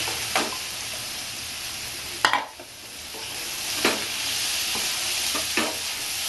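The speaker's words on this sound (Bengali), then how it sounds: "আমি কাঁচা কাঁঠালই কষে কষে অল্প করে জল দিয়ে দিয়ে বানাবো" Raw jackfruit stir-fries with spices in a pan for a Bengali-style curry: a soft, steady sizzle broken by several sharp scrapes and clinks of stirring.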